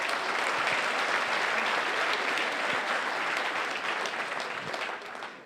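Sustained applause from an audience at a neighbourhood meeting, dense and steady clapping that fills the room and tapers slightly at the end, with no voices over it.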